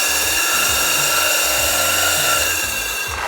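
A core drill bores dry into the ground to start a fence post hole for an aluminum fence, grinding and rubbing steadily with a droning motor for a few seconds, close and loud with no talk.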